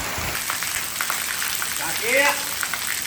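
Heavy rain driven by strong wind in Savarkundla, a constant rushing hiss of downpour, with a person's voice briefly rising over it.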